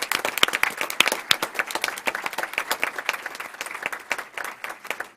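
An audience applauds dancers at a Sarasota County Schools board meeting, a dense, lively round of clapping that tapers off toward the end, heard alone.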